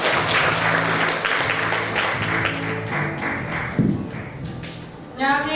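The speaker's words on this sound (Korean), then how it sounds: "큰 박수로 맞이해 주시기 바랍니다." Audience applause welcoming a presenter at a rural mountain-village project forum, a steady wash of clapping from a seated crowd that thins toward the end, with scattered taps and a brief thump near the close.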